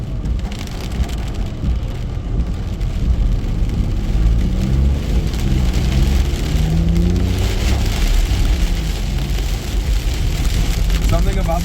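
Rain patters steadily on a car during an evening drive in traffic, forming a continuous hiss over low road and engine rumble with nearby vehicles audible.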